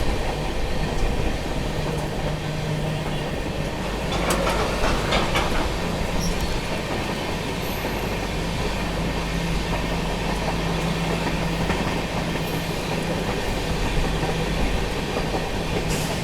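Chennai Express train rolling past ICF station, a steady loud rumble of wheels and carriages throughout with faint clacking and brief higher squeals, no voices.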